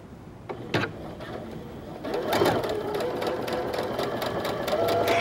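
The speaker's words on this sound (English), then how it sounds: "And I'm just going to stitch through that." Sewing machine stitching ribbon trim along the header edge of a plain pencil skirt, a steady close whirring run that starts after a couple of soft knocks and carries on loud and even to the end.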